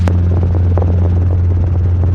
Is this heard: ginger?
no